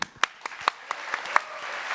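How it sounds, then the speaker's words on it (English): Someone in the audience at the ElevenLabs Summit claps in a spaced, regular rhythm of about four sharp claps per second. The claps are fairly faint over a soft room background and carry on alone. "A big round of applause to Will.i.am and Larry."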